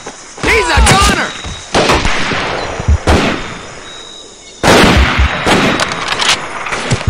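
Loud, close gunfire and explosive bursts in the World War II shooter Medal of Honor: Pacific Assault, arriving in several sharp, reverberant volleys separated by brief lulls, with shouted voices mixed in.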